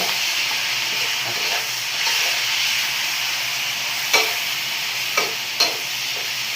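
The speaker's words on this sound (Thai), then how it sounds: "ใส่ซีอิ๊วขาวลงไปครับ สี่ช้อนโต๊ะผัดให้หอม" Steady sizzling and hissing from a hot wok as pork is stir-fried with soy sauce, with a few sharp scraping clanks of a spatula toward the end.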